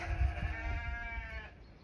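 A single sheep on an off-grid homestead gives one sustained, wavering bleat lasting over a second, fairly close and clear, with faint outdoor rumble beneath.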